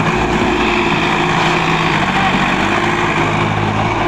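A 745 third generation tractor engine runs steadily and loud during stunt driving, a continuous low rumble with no voices.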